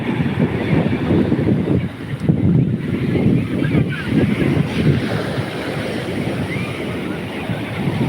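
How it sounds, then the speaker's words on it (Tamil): Ocean waves at a sunset shore with wind buffeting the microphone, a continuous rushing surf wash, loud and close, with a voice talking over it at times. "அதுக்குள்ளே அலை வேற வந்துட்டா, அலையை பார்க்கணும்"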